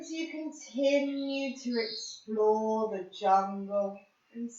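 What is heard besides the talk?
None of the usual background noises is heard.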